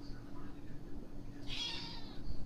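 A house cat meows once in a kitchen, a short drawn-out call in the middle, heard against faint background noise.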